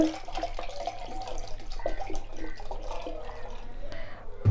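Cold water from the fridge pours and splashes in a steady trickle with small bubbling pulses, fairly close and moderately loud, while making ghee at home.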